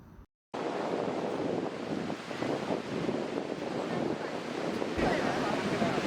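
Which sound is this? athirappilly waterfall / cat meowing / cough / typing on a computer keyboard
athirappilly waterfall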